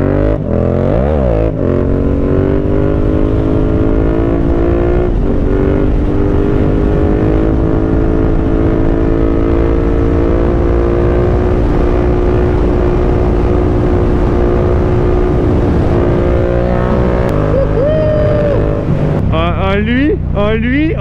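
A motorbike engine revs loud and sustained during a wheelie, a steady high-pitched whine with wind buffeting the microphone and shifts in pitch near the end.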